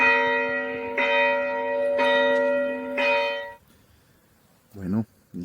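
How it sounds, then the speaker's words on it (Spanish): Church bells in Villánykövesd, a Hungarian wine village, strike at noon with four clear, resonant tolls about a second apart, then fade to near quiet before a brief voice speaks. "12 del día. Las campanas."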